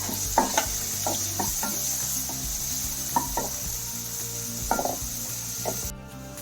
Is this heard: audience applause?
no